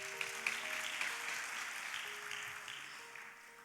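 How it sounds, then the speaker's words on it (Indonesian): Faint, steady applause from a conference audience in a large room, distant and continuous for a few seconds. "Tepuk tangan dong."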